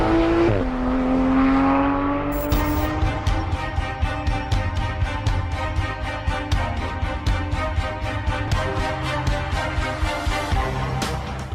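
A 2018 Porsche 911 GT3 RS engine revs on a track, its note rising after a brief lull into a loud, steady, pulsing drone with rapid rhythmic ticks throughout, close and dominant.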